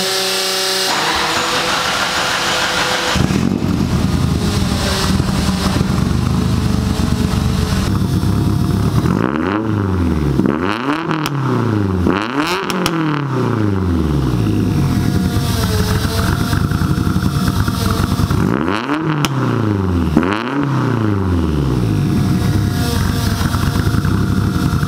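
A Mitsubishi Mighty Max pickup with a swapped 4G63 engine and rear-exit exhaust idles with a deep exhaust rumble, then revs up sharply several times in bursts before settling back to a steady idle.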